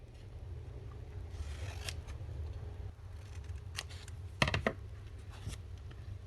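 Scissors snip through craft material for small Halloween inchies and mini plaques, a few short crisp cuts close by over a quiet room hum, with a sharper cluster of snips near the end.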